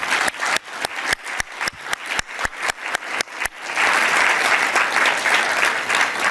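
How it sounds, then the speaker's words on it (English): Sparse claps build quickly into steady, full applause from a panel discussion audience, sustained and fairly close. "give a round of applause to our panelists today"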